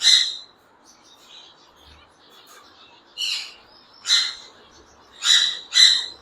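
Gouldian finches call in a breeder's aviary: short bright bursts of chirps, several spaced notes and a quick double call near the end, close and fairly clear over a quiet background.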